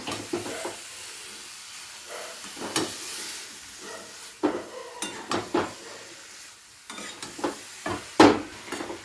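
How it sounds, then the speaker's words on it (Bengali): Drumstick pods (sajne data) cook down with spices in a pan under a soft, intermittent sizzle. Repeated close, sharp clatters of a spoon on metal come at an irregular rhythm. "তো সব কিছু দিয়ে এবার ডাঁটার সাথে বেশ ভালো করে কষিয়ে নেব।"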